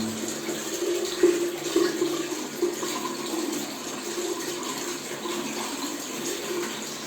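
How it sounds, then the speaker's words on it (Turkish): Water gushes out of an opened radiator during a heating system flush, a steady rushing flow with slight surges that holds at a moderate level throughout, with no talk. "Peteği açtığımız zaman su çıkacak. Evet açıyorum."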